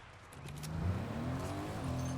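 A car engine in Fortnite, a steady rising hum as the vehicle revs up, moderately close and alone without talk.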